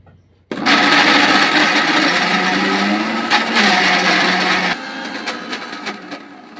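An electric blender-grinder, lid fitted, runs loud and steady as it purées soya bean paste, then drops to a lower, rougher whir near the end as it slows and stops.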